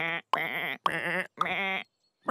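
A cartoon sheep bleats three times in quick succession, each call loud, close and nasal with a wavering pitch, separated by short silences.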